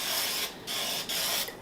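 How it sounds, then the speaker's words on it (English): Olive oil cooking spray misted onto baking pans, three short hissing bursts in quick succession with brief gaps, close and steady. "So I'm going to spray my olive oil."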